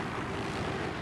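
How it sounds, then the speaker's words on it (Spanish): A helicopter in the video game Battlefield 3, a loud, steady engine and rotor drone that fills the whole moment with no break. "Oigo un helicóptero."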